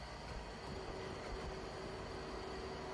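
Freight train rolling along a track in a construction simulator game, a steady low rumble of wheels and wagons with a faint tonal hum, continuous and fairly quiet, no talk.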